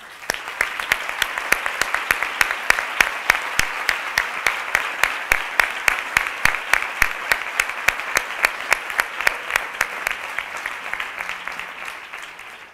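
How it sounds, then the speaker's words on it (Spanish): Outdoor crowd at a veterinary degree graduation ceremony breaks into sustained applause, dense clapping that swells early and holds evenly for over twelve seconds before tapering slightly, loud and close with no speech. "Y creo que esto sí merece un aplauso."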